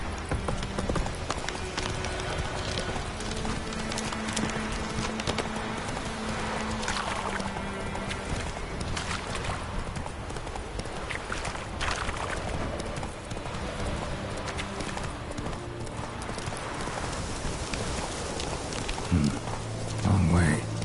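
Hooves of Roach, the horse in The Witcher 3 game, galloping in a steady rapid clip-clop rhythm that runs throughout, loud and close.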